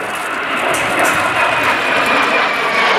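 Twin jet engines of a small four-seat early business jet at the Paris Air Legend airshow roar loudly and steadily, a broad continuous whine and rumble with no voices.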